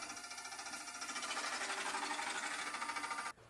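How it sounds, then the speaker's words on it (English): A ProEdge bed knife sharpener runs with its grinding stone traversing along a bed knife, a steady dense mechanical grinding hum with a fast regular pulsing that cuts off abruptly near the end. "Start stone and traverse. It may be necessary to adjust the stone to achieve an even grinding from one end to the other."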